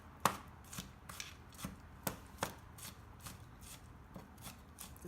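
A knife chops ingredients for Chinese pork dumplings on a board: roughly a dozen quiet, uneven cuts, close by, with no talking.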